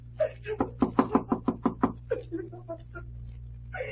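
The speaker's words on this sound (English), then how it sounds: "Well, guess it won't hurt to rap on the door." Knocking on a door in an old-time radio mystery drama: a run of about eight crisp, evenly spaced raps, close and loud, followed by softer scattered sounds over a steady low hum.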